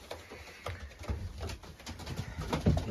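Racing pigeons in a loft give soft, low, repeated coos mixed with faint rustling and shuffling, close and fairly quiet, with no voices.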